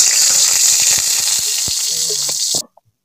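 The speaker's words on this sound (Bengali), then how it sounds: "রান্নার দ্বিতীয় পর্বে আবার আমি কড়াতে তেল দিয়ে দেবো" Vestige brand oil sizzles loudly in a hot kadai, a bright, steady hiss with scattered crackles and pops that cuts off abruptly near the end.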